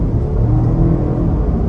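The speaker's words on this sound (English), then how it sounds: "we'll try our acceleration off the line" A 2023 Jeep Grand Cherokee Overland 4xe plug-in hybrid pulls away hard from a standstill, heard from inside as a loud, deep, continuous drivetrain rumble with a low whirring hum.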